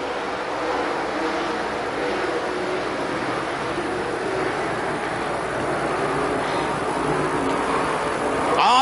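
Late model race cars at Springfield Raceway roar off the turn, a dense, steady engine drone that swells slightly toward the end.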